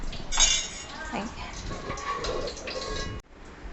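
Turmeric-, salt- and masala-coated eggs are moved into a cooking pot for egg biryani, with light metallic clinks and scrapes of utensils against the vessel, close and moderate, alongside a quiet voice.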